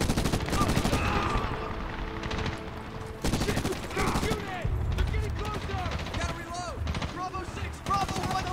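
Gunfire from the shooter game Medal of Honor, dense bursts of shots crackling throughout under a busy battle mix with music, steady and fairly loud across the whole stretch.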